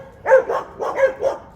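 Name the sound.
dogs barking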